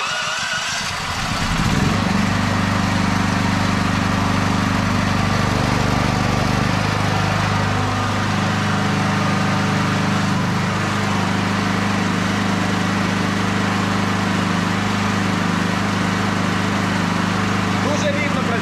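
A petrol generator runs steadily with an even, continuous engine drone close by after it starts up, and a voice talks over it.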